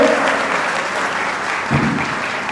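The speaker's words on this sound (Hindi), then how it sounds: "एक बार जोरदार तालियां" Audience at a Brahmin community talent award ceremony breaks into loud, sustained applause, close and full, with a brief low thump partway through.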